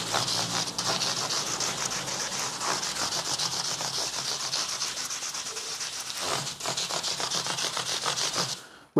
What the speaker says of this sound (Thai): อันนี้เราเริ่มจาก เบอร์ 400 นะครับ ให้ขัดแบบนี้ นะครับ